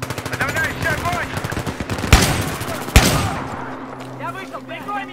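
Battlefield 3 gameplay carries rapid automatic gunfire, steady rattling bursts throughout with two sharp heavy reports standing out, mixed with radio voices and battle noise.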